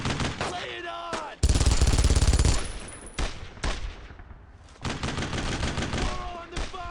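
Rifle and machine-gun fire in Brothers In Arms Road To Hill 30 during a World War II squad firefight, a long loud close burst followed by scattered sharp shots and further volleys, with soldiers shouting between them.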